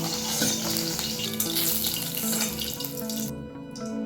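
Black mustard seeds and a dried red chili splutter in hot oil left from frying fish, making a dense, loud hiss and crackle that cuts off abruptly near the end, with no speech.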